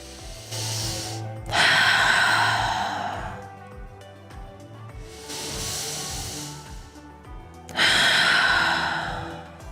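Slow, deep breaths in a supine yoga twist: airy inhales and long hissing exhales, three broad swells close to the mic, separated by quieter pauses, with no talking.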